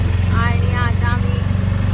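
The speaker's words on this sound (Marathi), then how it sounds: "रिक्षाचा आवाज." Steady, loud low engine drone of an auto rickshaw idling nearby while stopped roadside, running continuously throughout, with faint voices over it.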